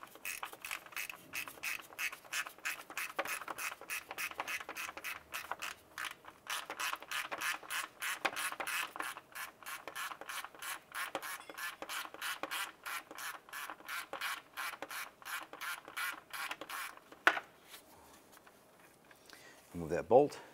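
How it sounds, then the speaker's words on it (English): A ratchet with a 10mm socket loosens the coolant expansion tank bolt on a 2001-2005 Honda Civic, giving a fast, steady run of close, crisp clicks for most of the stretch before a brief pause and a final knock. "We're going to use our 10mm socket and our ratchet."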